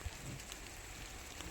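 Steady first monsoon rain falls in a village, a soft even hiss of drops on surfaces for a brief stretch with no voices.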